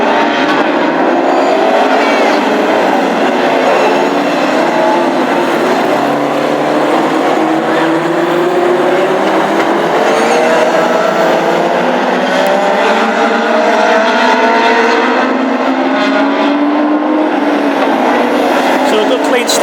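Hot rod race cars start a final at a Hednesford oval. Engines roar continuously and loudly, with a race commentator talking over the noise throughout.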